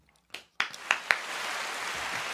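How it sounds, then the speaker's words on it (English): In a small podcast studio, a few separate hand claps ring out, then merge into brief, soft, continuous applause from a handful of people. "Round of applause for yourself."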